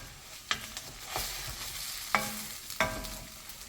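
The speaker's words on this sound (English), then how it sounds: "And stir it good too," Spatula stirring and scraping eggs being scrambled in a hot pan for egg hakka noodles, several sharp scrapes over a soft sizzle, close and fairly quiet.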